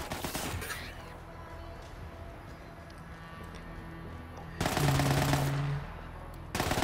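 Bursts of automatic gunfire from Borderlands 3 crack loudly, with a rapid burst at the start, a quieter stretch, then a sustained heavy volley and a final short burst.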